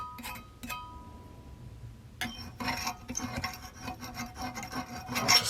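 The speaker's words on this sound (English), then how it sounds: "I'll just scrape that a bit so that sort of sprung up." Scraping at a badly corroded metal connector ring on a 400W high pressure sodium grow lamp, a series of close, gritty rasping strokes after a quiet start, growing denser and louder toward the end.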